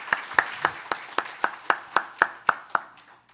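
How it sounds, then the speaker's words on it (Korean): In a church service, the congregation claps in a slow, steady rhythm, about a dozen distinct, evenly spaced claps at moderate loudness, before the clapping stops abruptly. "우리 시간에 하나님께 감사 영광의 박수를 한번 올려드리시기를 원합니다."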